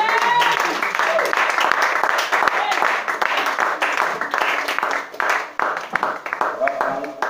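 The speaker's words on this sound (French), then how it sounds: "On acclame le Seigneur Jésus." A church congregation at an Easter service applauds in sustained, dense clapping throughout, loud and close, with voices calling out and talking over it.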